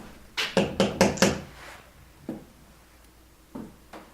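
Knocking inside the Nickerson-Snead House: a quick run of four sharp knocks, then two isolated single knocks after pauses, fairly close in a quiet room.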